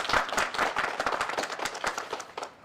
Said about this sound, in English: Let's give the contestants another round of applause